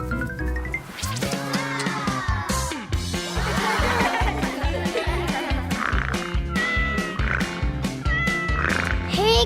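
Several kittens meow repeatedly in a lively, overlapping chorus on a farm, their calls rising and falling close by with steady background activity throughout.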